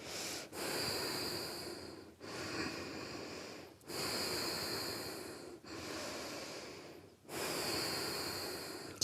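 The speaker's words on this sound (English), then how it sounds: "Keep breathing full and deep." Slow, deep, full breaths close to the mic, five long airy inhales and exhales in a steady rhythm, each separated by a brief pause.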